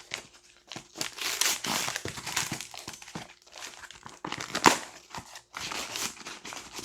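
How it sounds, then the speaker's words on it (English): Hands work at a taped cardboard box of Funko Pops with bursts of crinkling, tearing and scraping close by, broken by short pauses, without speech. "I have tape on this box, so I'll see if I can crack into that."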